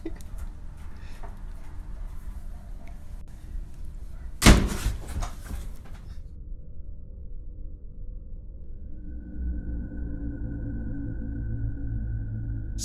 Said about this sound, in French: La porte se claque d'un coup